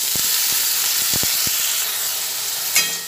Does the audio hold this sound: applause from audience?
no